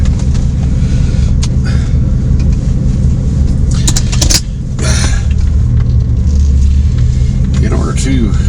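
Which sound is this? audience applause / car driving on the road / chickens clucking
car driving on the road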